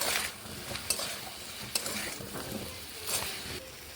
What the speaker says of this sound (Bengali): ঢাকা খুলে নিলাম এবার একটু নেড়ে নিচ্ছি